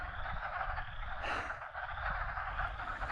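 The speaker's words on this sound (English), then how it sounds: "Those are frogs. Spring peepers." A dense, continuous chorus of high spring peeper frog calls fills the air, with one brief breathy rush partway through; no talking.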